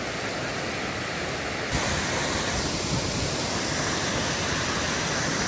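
A river rushes steadily past a rough man-made bridge on the West Coast, a dense, loud broadband roar of flowing water that swells slightly partway through, with no voices.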